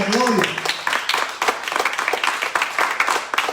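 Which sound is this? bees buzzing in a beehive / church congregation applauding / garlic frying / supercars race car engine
church congregation applauding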